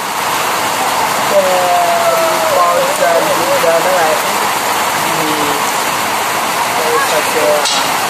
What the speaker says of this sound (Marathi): मोठा पाऊस येतो देखो